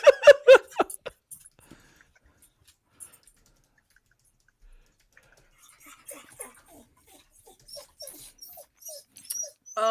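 A dog whimpers and barks for attention, a quick run of close, loud yelps at the start, then sparse faint whines and squeaks scattered through near silence.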